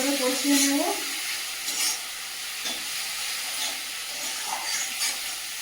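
Goat meat sizzles and hisses steadily in a hot pan, a bright continuous crackle close by, with a brief bit of background noise at the start.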